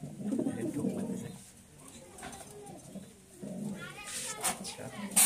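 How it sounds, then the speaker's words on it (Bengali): Pigeons of many breeds coo in a loft, low soft coos repeating in bursts at close range, with faint background voices. "বহু জাতের কবুতর। কবুতরের শেষ নাই, প্রচুর।"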